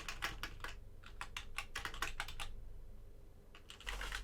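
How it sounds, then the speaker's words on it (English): Quiet, close typing on a computer keyboard: irregular bursts of light key clicks, a short pause, then a few more taps near the end. "my typing right now"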